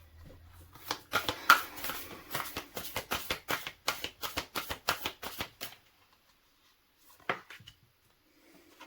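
Oracle cards shuffled in a rapid run of crisp, rhythmic riffling snaps for several seconds, close and fairly loud, then a pause and one brief final flick.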